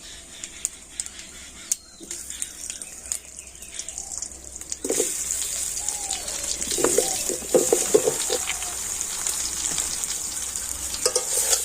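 Dried green mango pieces frying in oil with panch phoron for a sweet-sour pickle, a soft crackle that swells into a steady bright sizzle halfway through, with scattered stirring clinks and scrapes.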